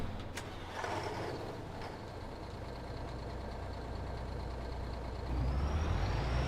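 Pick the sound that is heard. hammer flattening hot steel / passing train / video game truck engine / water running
video game truck engine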